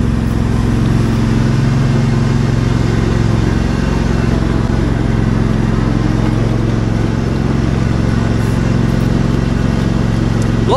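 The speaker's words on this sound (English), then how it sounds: "let's fire up, all being well, the Husqvarna, and I'm going to do the front of the cottage." A Husqvarna machine runs outside the front of a cottage, its engine chugging loud and steady close by for about ten seconds with no speech over it.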